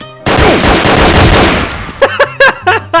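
Rapid automatic gunfire in Garry's Mod DarkRP, a loud continuous burst for nearly two seconds, then several separate sharp shots spaced apart.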